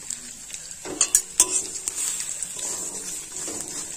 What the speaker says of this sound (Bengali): খুব ভালোভাবে নাড়াচাড়া করে পেঁয়াজ বড়ি একসাথে ভেজে নিয়েছি।